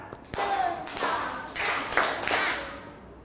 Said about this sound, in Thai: อ่าเอาใหม่ปรบมือห้าครั้ง